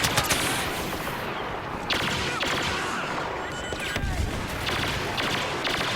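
Gunfire in Star Wars Battlefront comes in several loud bursts of rapid blaster-style shots separated by short pauses, set against busy battle ambience.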